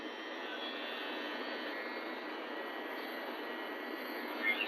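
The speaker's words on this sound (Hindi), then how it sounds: "ऐसे मशीन को इस तरीके से रखो और ऐसे चलाओ" An electric beard trimmer runs without pause while it cuts beard hair, making a steady, soft whirring hiss close by that has no breaks.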